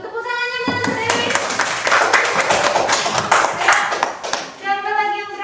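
Children in a classroom clapping their hands in a quick, busy burst of taps and claps lasting several seconds, with a teacher's voice and children's chatter heard over and around the applause.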